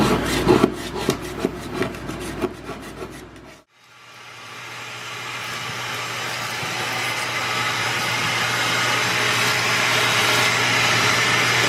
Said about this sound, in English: scraped the fronts and the backs of the steps